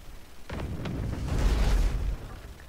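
A ship's cannon fires in the pirate ship game Abandon Ship, a single deep boom that swells and rumbles for about a second before fading, heard alone without talk.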